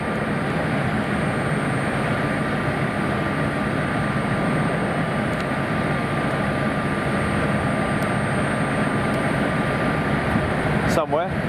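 A large cargo freighter jet takes off from Munich's southern runway, its engines a steady, dense broadband roar held at a constant level throughout, with faint voices in the background.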